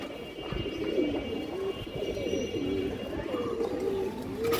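A Kajla pigeon coos softly and repeatedly, a low burbling call that rises and falls in a loose rhythm over faint background noise.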